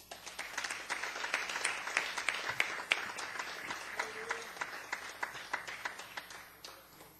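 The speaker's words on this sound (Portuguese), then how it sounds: "Vamos receber os servos de Deus com uma salva de palmas" A congregation claps to welcome guest speakers at a church graduation service, CEMID 2012. The applause is soft and steady, with a scatter of sharper individual claps that stand out near the end.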